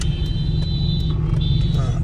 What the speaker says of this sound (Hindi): यहाँ पे देखना काफी रश होगा, रिक्शे, मोटरसाइकिल, कारें, सारी जो है ना ट्रैफिक इधर से गुजरती है अक्सरियत में